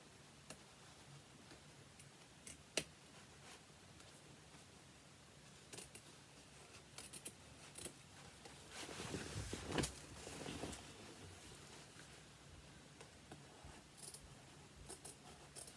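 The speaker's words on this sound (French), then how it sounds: "Donc on coupe le surplus de couture." Scissors trim the excess seam allowance from a jacket: faint, close snips and ticks spaced unevenly, with a louder rustling stretch of fabric handling in the middle against a quiet room.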